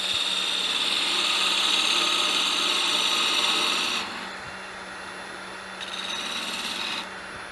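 A lathe tool trims the end of a turned wooden Christmas tree box. The cut makes a loud, continuous hissing scrape up close, then stops briefly and starts again in a shorter second pass.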